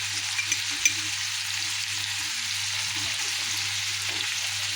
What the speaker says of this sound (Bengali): আমি তো এখন ঢ্যাঁড়স ভাজি করবো। ওকে, দেন আমি একটু হলুদ দিয়ে দিলাম